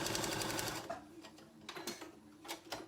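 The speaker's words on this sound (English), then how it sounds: "And I'm gonna stitch this down." A sewing machine stitching a foundation paper-pieced quilt block runs in a fast, even mechanical patter for about a second, then stops, leaving a few faint clicks and light handling noises nearby.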